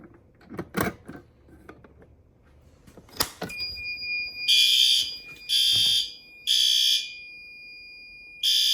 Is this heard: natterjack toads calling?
no